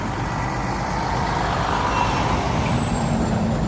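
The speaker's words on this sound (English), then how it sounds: "I've got a big truck going my way right" A big truck rumbles past close by, a steady loud low-pitched engine drone with broadband road noise holding throughout, and no talking.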